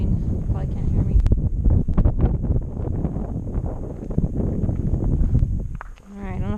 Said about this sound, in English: Now the wind's blowing.